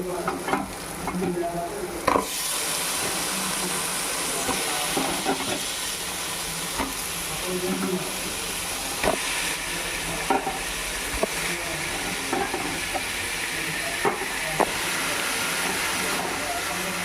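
Chicken pieces hissing and sizzling loudly in hot spiced masala for a chicken fry piece biryani, a dense steady frying roar with occasional stirring clinks, and a voice talking over it.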